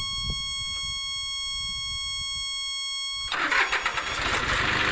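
A steady high electronic beep tone runs, then a small tiller engine for sugarcane rows roars to life and keeps running loudly and roughly nearby.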